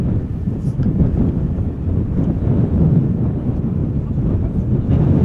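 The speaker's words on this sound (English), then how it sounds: "With wind blowing from the west, the wind is blowing perpendicularly to the runway heading." Strong wind sweeps across an airport runway, buffeting the microphone with a loud, continuous low rumble and roar that holds steady throughout without any clear voices.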